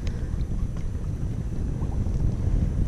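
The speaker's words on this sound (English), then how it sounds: "it's oh so windy, as you can tell by the brown water being churned up" Strong wind buffets the microphone in a constant low roar, with choppy brackish lagoon water faintly lapping beneath it. No one speaks.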